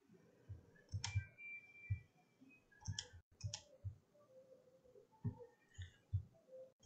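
Soft, irregular clicks tap out close by, single and paired, with quiet pauses between them in a still room.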